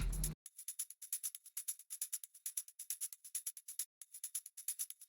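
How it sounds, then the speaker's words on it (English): A tambourine loop in an electronic music track, rhythmic high jingle hits repeating steadily and alone after a brief low thump at the start. "And then we have a tambourine loop"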